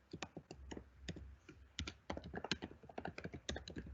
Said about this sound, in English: I'm gonna just type